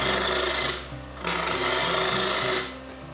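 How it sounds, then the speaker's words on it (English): A wooden surface is flattened by hand with a rasping tool in a box-making job, giving two long scraping passes that stop briefly between them, close and loud with no talk. "Let me flatten this surface for a while."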